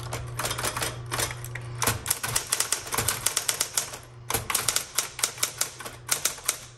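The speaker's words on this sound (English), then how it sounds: "let's go ahead and turn this on and start typing" A 1960s Electra 120 electric typewriter types in rapid bursts of sharp, close keystrokes over a steady motor hum, with brief pauses between runs of clacking.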